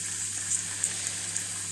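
A bell pepper frying in a pan, giving off a steady close sizzle with faint occasional pops and spits.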